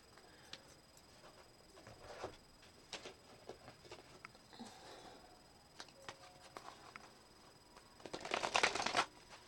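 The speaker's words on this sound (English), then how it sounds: "Pull a few more cards here." During a tarot reading, someone shuffles tarot cards quietly with soft scattered ticks and riffles. The handling ends in a louder burst of rapid flutter near the close. No voice is heard.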